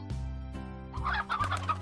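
Elder chickens in the Slime Rancher video game give a series of close, repeated clucks, four or five short bursts in quick succession over a low background hum.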